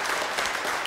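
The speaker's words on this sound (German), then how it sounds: "Da gibt es Applaus." A German TV talk-show studio audience applauds, a brief, dense burst of many hands clapping at moderate volume lasting under a second.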